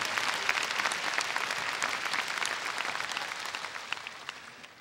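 An audience applauds a winner at the 1994 Korean supermodel contest award ceremony, sustained even clapping from a large crowd, loud and steady throughout before tapering slightly at the end.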